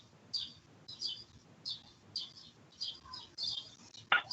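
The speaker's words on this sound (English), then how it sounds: "It sounds like I had a couple cardinals outside my back door" Cardinals outside a back door, a repeated series of bright chirps and whistled notes at a moderate distance, evenly spaced, with no talking.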